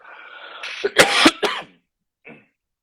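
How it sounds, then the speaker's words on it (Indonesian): A few harsh, bursting coughs close by, clustered together, followed by a short pause and one fainter cough. "tiba-tiba batuk"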